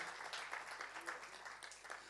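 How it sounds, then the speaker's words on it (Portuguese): Church congregation clapping during a festive celebration, a brief, faint patter of many hands heard from a distance. "Dê-nos um aplauso e celebre."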